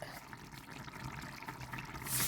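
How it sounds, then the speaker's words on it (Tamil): Tamarind water pours steadily into a pot of brinjal curry, a close, continuous trickle and splash that swells briefly at the end. "அதனால் கொஞ்சமாக புளி விடுவேன்"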